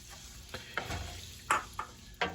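Lentils being stirred into a pot of water on high heat, heard as a few soft scraping and sloshing strokes spaced through a quiet background hiss.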